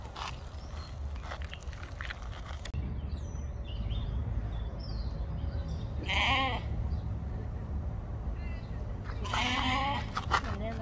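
Endangered heritage sheep bleat at a pioneer village farm, two or three wavering calls from nearby over steady outdoor background noise, with a person talking briefly.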